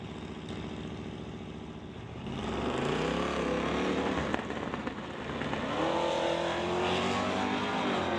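Drag race cars run the quarter mile at an NHRA Summit ET finals event, with a loud sustained engine roar that swells and climbs in pitch as the cars accelerate, heard alone without talk.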